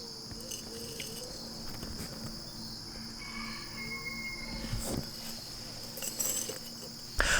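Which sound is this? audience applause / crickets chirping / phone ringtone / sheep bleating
crickets chirping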